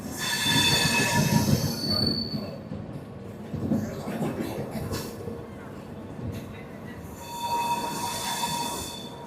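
An intercity express train runs straight through Laksar junction past platform 3 without stopping, its wheels squealing loudly and steadily with a heavy rolling rumble and a second strong squeal near the end.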